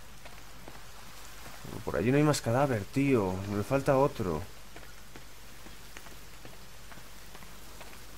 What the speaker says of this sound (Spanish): se ha puesto a llover.